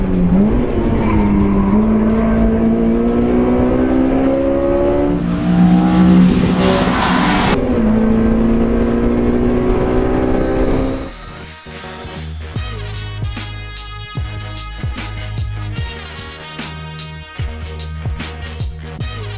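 Honda Prelude third-generation and other track-prepared cars lapping a circuit at the HEM 2016 event, engines revving and climbing through gears loud and near, then a quieter stretch of idling and distant engine noise.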